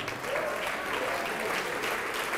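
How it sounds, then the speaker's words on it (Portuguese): A church congregation applauds steadily through a revival service, dense clapping holding an even level from start to finish with no pauses. "vamos aplaudir mais."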